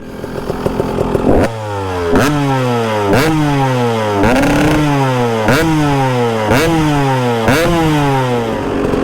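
A KTM 300 EXC two-stroke dirt bike fitted with an FMF Power Core 2 silencer revs repeatedly, each sharp blip climbing and falling in a steady rhythm over a constant buzzing idle, loud and close.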